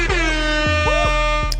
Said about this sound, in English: let me give some air horns on that